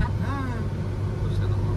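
A Hyundai Verna cruises across the Atal Setu bridge, its steady road and engine rumble heard from inside the cabin with a brief voice and a faint rising tone over it.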